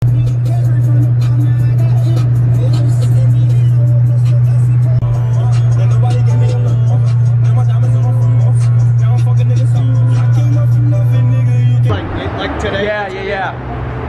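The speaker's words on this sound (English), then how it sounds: "I'm going to start the car. We're going to roll over there." A Corvette C6 engine runs with a loud, steady low rumble for about twelve seconds, with voices audible under it, before the sound shifts as the car moves off.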